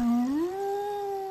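A dog howls in an eerie Hindi audio drama: one long, clear, mournful note that rises slightly in pitch, then holds steady on its own for over a second.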